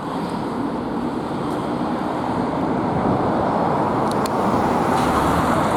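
A car pulling out onto a rural country road at a junction, heard within a steady, loud wash of traffic and road noise with no talking.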